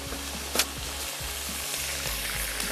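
Chicken pieces fry in hot vanaspati ghee over high heat, giving a steady close sizzle with soft bubbling and a few stirring clinks, with no talk.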